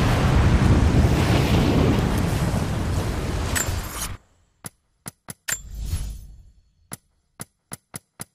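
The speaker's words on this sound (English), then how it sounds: "This wind is crazy." Strong mountain wind in the video game Rise of the Tomb Raider, a loud roaring gust that buffets steadily and then cuts off, followed by another short swell and a scatter of sharp clicks in near silence.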